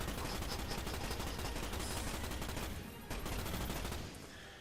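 Sustained gunfire from a weapon in the Starship Troopers video game (2006), a dense, continuous loud volley of rapid shots with a brief dip near the three-second mark before the barrage resumes.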